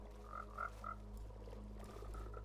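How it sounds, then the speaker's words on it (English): Minecraft frogs croak in a short series of soft, evenly spaced croaks, quiet against a steady low background hum, with more faint croaks trailing later. "Right, we've got 2 frogs in now."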